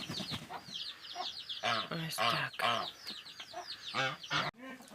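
Roosters crow loudly and hens cluck close by in a small farmyard, with a brief spoken phrase near the start.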